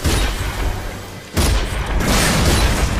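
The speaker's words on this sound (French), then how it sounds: "On va y aller à la grenade." A grenade explodes in the shooter game Rage, a loud, dense boom with a brief lull before a second heavy blast and crackling rumble that fills the rest of the moment, with no voices.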